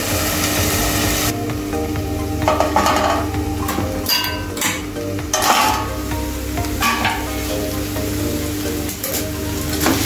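Onion and tomato cook in a covered pan, a steady, dense sizzle that drops a little after the first moments, with scattered clicks and a few short knocks, close and with no talking.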